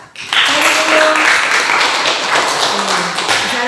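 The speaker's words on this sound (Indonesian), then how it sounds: "Tepuk tangan untuk Heri." Classroom applause for a student, a dense wash of clapping from many hands that starts abruptly and holds steady for several seconds, fairly loud and close with a few faint voices mixed in.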